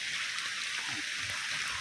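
Rainwater runs down a forest path like a small waterfall during rain, a soft, continuous hiss of flowing water, faint and even, with no voices.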